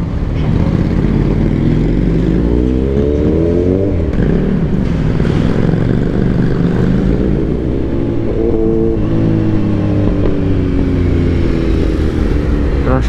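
Motorcycle engine running steadily during a ride through traffic toward Valenzuela, with a continuous loud drone and rising and falling pitch as the rider shifts and accelerates.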